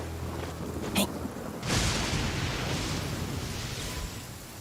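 A lightning strike in Genshin Impact's Inazuma region hits with a sudden sharp crack, then a sustained thunder roll over a steady rain-like hiss. A brief click comes just before it.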